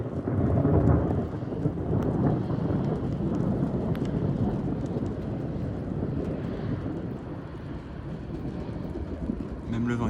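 Thunder from a storm directly overhead in the Somme rolls as a deep, continuous rumble, loudest at the start, with wind and rain noise throughout.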